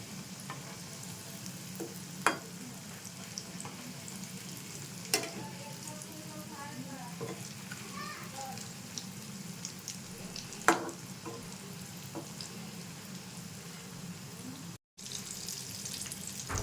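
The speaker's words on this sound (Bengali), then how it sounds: "আমি সবগুলো রেডি করে নিয়েছি, এবারে ভেজে নেব" Egg and flour tiffin snacks fry in hot oil over a low gas flame, a steady soft sizzle running throughout with occasional sharp clicks and stirring knocks, close and alone with no talk.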